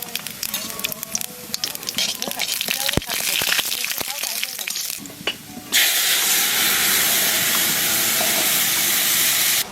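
Bay leaf, cumin and radhuni dropped into hot oil, starting with scattered crackles and pops before breaking into a loud, steady sizzle that fills the second half.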